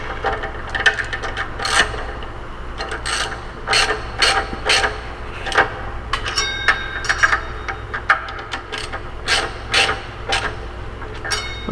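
A socket wrench working a caliper bracket bolt on a Kawasaki Ninja 300 during a Tokico four-piston caliper install: a close series of short, irregular ratcheting clicks and rasps, separated by brief pauses, with no talk.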